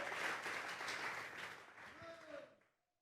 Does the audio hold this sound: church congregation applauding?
yes